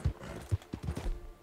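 Horse hooves clip-clop in Red Dead Redemption 2, a few uneven low thuds across a short stretch, fairly faint, with no talk over them.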